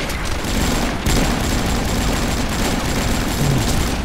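Rapid blasts and gunfire rumble from the Avatar Star video game, a dense, loud, continuous barrage filling the whole stretch with brief surges and no voices over it.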